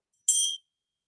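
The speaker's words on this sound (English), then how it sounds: "ringing of the bell" A single bright, high yoga bell strikes once in a quiet room, ringing briefly before cutting off, with silence before and after.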